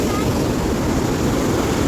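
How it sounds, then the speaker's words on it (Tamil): Foamy ocean waves breaking at Kovalam beach, heard as a loud, continuous rushing roar with wind buffeting the microphone and no distinct individual wave crashes. "எப்படி நுறையா பொங்குது பாருங்க கடல்."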